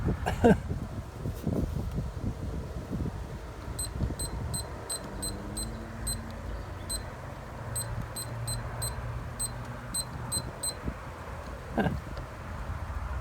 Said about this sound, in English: This barbecue, it had a little timer on it. Still working?